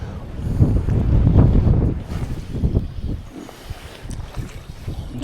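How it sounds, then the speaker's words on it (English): Strong wind buffets the microphone outdoors beside water at a pike fishing spot, a loud rumbling gust that eases into steadier, lower blowing. "true to form, I knew that wind would pick up"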